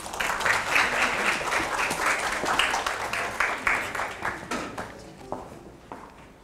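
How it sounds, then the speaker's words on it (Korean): An audience at a court concert bursts into loud, dense applause that holds steady, then thins into scattered claps and fades out. "큰 박수로 맞아주십시오."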